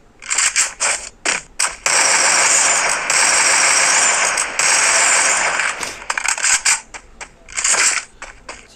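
A jeep engine runs loud and steady in the Free Fire battle game, a continuous rumbling drone broken by a few short gaps and bursts of other game noise.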